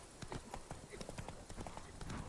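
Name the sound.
horse Roach galloping in video game The Witcher 3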